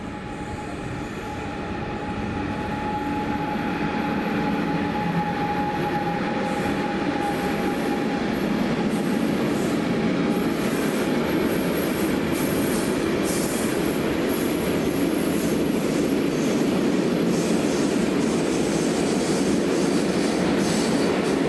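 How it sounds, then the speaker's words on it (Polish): A Lotos Group Dragon freight locomotive hauling tank wagons rolls steadily past a station at Jaworzno Szczakowa, a loud continuous rumble of wheels on rail with faint squeal and clatter building and holding close throughout. "Przed nami pierwszy skład Dragon grupy Lotos z cysternami."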